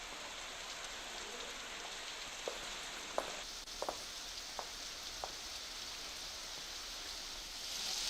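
Heavy rain falling in Surat, a constant soft broadband hiss of downpour with a few faint clicks and taps scattered through it.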